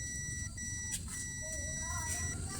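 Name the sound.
multimeter continuity buzzer beeping while testing motor windings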